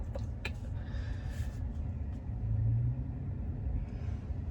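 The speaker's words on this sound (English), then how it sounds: "sitting in traffic here, driving home" Steady low road rumble of a car in rush-hour traffic, heard from inside as a continuous engine and tire drone that swells slightly midway, with no talking.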